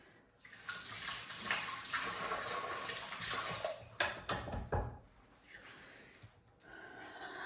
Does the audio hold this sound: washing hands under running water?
yes